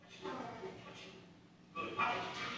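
A police dog barks and yips during a bite demonstration before a town select board meeting, several sharp bursts close by, mixed with people talking over them.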